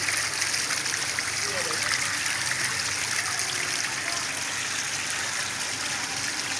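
Pressurized water rushing steadily from a burst household water pipeline, a continuous broadband hiss and splash close by, with someone speaking briefly over it.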